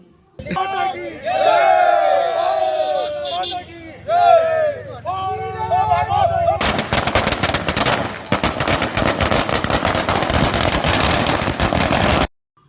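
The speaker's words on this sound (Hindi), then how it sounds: "उज्जैन मंडी में व्यापारियों ने इकट्ठा होकर आतिशबाजी कर खुशी मनाई" A loud crowd of market traders in Ujjain, India, shouts and cheers during a celebration, then a dense burst of rapid crackling firework explosions takes over for several seconds, sharp and continuous like a string of firecrackers.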